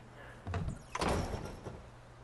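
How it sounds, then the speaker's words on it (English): In Fortnite, an automatic game door opens with a brief knock, then a fuller sliding whoosh and thump, close by against a steady low background drone. "you just run up to the door, it automatically opens"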